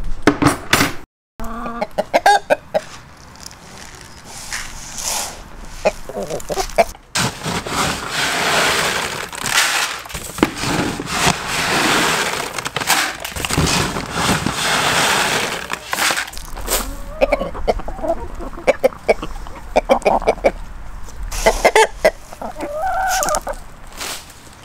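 A flock of homestead chickens clucks and squawks loudly and steadily at morning feeding time, with a rooster crowing, rustling and crunching feed sounds, and brief bursts of nearby activity.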